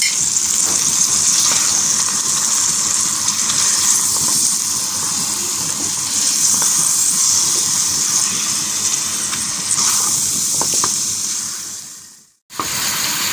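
Garlic ginger paste frying with mutton in a karahi for mutton korma, a steady loud sizzle and hiss with faint stirring scrapes, running evenly before cutting out near the end.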